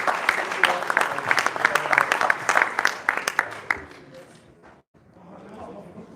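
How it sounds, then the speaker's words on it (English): Applause at a boxing post-fight press conference, a busy burst of clapping with some voices mixed in, fading out after a few seconds into quieter room noise and murmuring. "Round of applause for the future."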